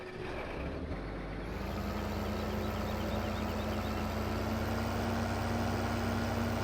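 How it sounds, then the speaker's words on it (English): A tractor engine idles in the Farming Simulator 15 video game, a steady, loud, continuous diesel drone with a low rumble that holds unchanged throughout, with no voices. "This is quite a tractor."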